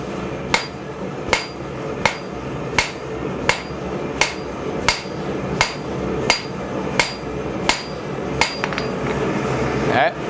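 A hammer strikes hot steel on an anvil in a steady rhythm of about fourteen sharp ringing blows, drawing a bevel while forging a drawknife in a blacksmith's shop, loud and close with background hum.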